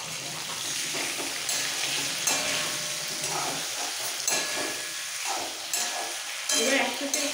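A paste of ground whole cumin and coriander sautéing in a pan for onion-free, garlic-free rohu fish curry: a steady close sizzle and hiss with repeated stirring scrapes throughout.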